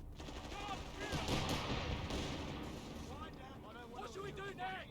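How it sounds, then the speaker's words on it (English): Artillery fire and gunfire rumble through a dense battle scene in the Company of Heroes 3 video game, a steady barrage under overlapping game voices and effects for the full five seconds. "Let's get these artillery emplacements set up."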